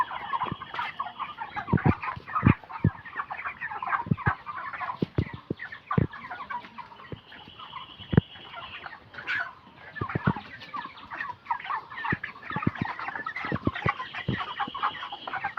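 Dense chorus of 29-day-old broiler chickens on a poultry farm clucking and chattering throughout, with sharp individual calls popping out over a steady flock murmur, fairly close.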